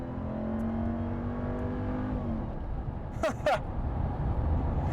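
A RAM TRX 1500 pickup accelerates hard, its engine a steady rising roar with climbing harmonics for the first half, then easing off with a couple of brief louder bursts near the end.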